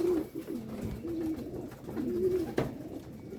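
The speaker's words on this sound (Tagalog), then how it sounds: "Ayan, sunod-sunod na mga ibon natin." Racing pigeons returning to the loft during a five-lap fun race coo in soft, repeated low calls close by, with a sharp knock near the end.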